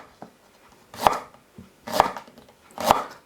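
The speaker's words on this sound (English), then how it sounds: "all we're going to do is we're just going to slice them thinly" A knife slices thinly through unpeeled fresh ginger on a chopping board for a soy sauce chicken, giving three sharp, evenly spaced chops close up with quiet pauses between them.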